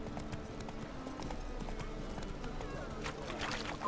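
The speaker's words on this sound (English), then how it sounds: "El caballo está aquí." Horse hooves clip-clopping at a walk in The Witcher 3, a steady close rhythm of hoof falls on a path under game ambience, with someone talking over it.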